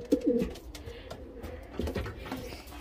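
An old-bird racing pigeon, trained but never raced as a young bird, coos close by after returning from a race, with a few throaty rolling phrases over quiet background noise.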